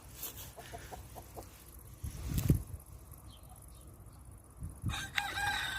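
A Brahma rooster crows outdoors at a moderate distance, with faint background clucks and rustling before a second crow begins near the end.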